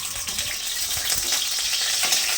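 Spices fry in a little oil for rui fish bhapa, giving a steady, close hiss and crackle with faint stirring and no talk.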